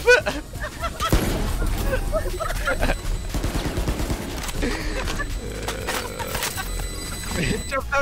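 Rapid gunfire from a Valorant match rattles in bursts throughout, mixed with excited players talking and shouting over it.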